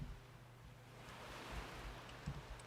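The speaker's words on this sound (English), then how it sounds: "There's a chance you guys can't even hear me over these waves." Ocean waves washing against a shipwreck-strewn shore in the video game Skyrim, a soft, steady surf wash with low rumbling swells, faint and continuous with no talk.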